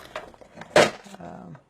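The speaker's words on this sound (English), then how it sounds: "Sorry for the noise. I'm trying to find a straight pin." Rummaging through small metal items in search of a straight pin: a few light clinks and taps, one sharper clatter in the middle, then a brief scrape before it goes quiet.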